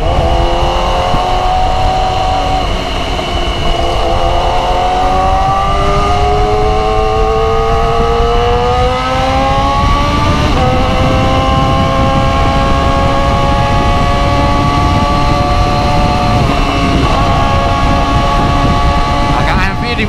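A Yamaha R6 motorcycle with an error code 18 fault drones loudly and steadily, its engine pitch rising gradually, while someone talks over it.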